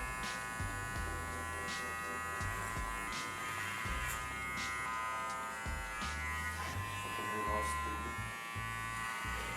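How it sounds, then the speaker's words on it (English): Electric hair clippers trim loose hair sticking out over a comb during a low skin fade, a steady close buzz running throughout with short repeated strokes and faint background music. "I'm gonna just trim away any loose hair that hangs outside of the comb so that we connect the side length to the top"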